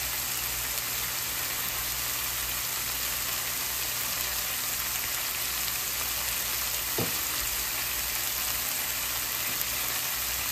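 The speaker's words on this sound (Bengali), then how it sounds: "এখন আমি সবগুলো মশলাকে ভালো করে কষিয়ে নিচ্ছি" Spices with cumin powder and chili powder frying for a pabda fish curry over medium heat, a steady hiss like light rain running throughout at an even level, with one brief clink near the middle.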